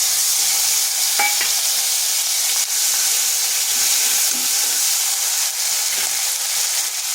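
Ginger and green chilli paste sizzles in hot tempering oil with cumin seeds and a bay leaf, a loud, steady frying hiss with occasional stirring scrapes, close up and with no voices.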